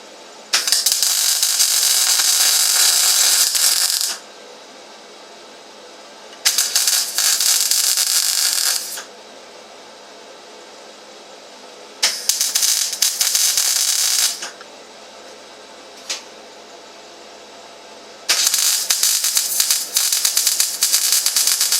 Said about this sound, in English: now I'm going to actually weld it in